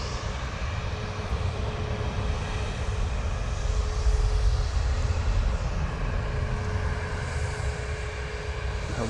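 A Ryanair airliner arriving from Guernsey and bound for Barcelona flies past, its jet engines giving a loud, steady broadband roar with a low rumble that swells slightly midway and carries on throughout.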